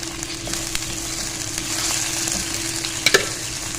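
Tomatoes and ground green chilies fry and sizzle in a pan for sarson ka saag, with a steady close crackle, light stirring throughout and a couple of sharp utensil clinks near the end.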